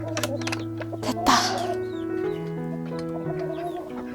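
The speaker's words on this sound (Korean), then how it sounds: "저 수탉이 처음 왔던 닭인데 샤를이라는 애인데요." A rooster on a countryside farm clucks and calls close by in short, repeated bursts, with other farm birds sounding faintly around it.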